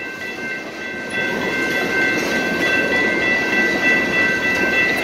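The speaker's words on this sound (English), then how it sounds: "Awesome seeing freight trains though." Freight train of tank cars rolls past close by, a steady loud rumble with rhythmic clickety-clack of wheels and metallic squeal overtones, no voices.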